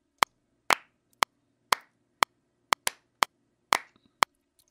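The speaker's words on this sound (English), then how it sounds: "listen to the claps with the metronome" Recorded hand claps played against a metronome, about ten sharp, dry clicks and claps in a steady beat with some claps slightly off, each standing alone in silence.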